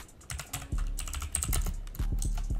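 Fingers type on a computer keyboard, a close run of quick irregular key clicks and taps with a few louder thumps, heard alone without talk.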